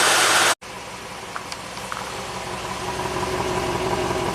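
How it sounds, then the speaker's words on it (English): A Cadillac Allante V8 idles smoothly and steadily at about 600 RPM after a high-idle fix, a close, even engine hum that follows a brief cutoff near the start. "It's a nice, healthy V8 sound."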